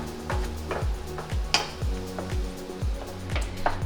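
Pureed tomato is stirred into eggplant in a pot for Persian Mirza Ghassemi, the spoon scraping and knocking the pot in a steady rhythm of close, repeated strokes over a soft background sizzle.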